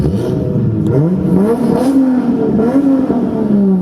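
A loud, raspy 2JZ car engine revs up and down through straight-pipe exhaust, rumbling and crackling close by with no talking.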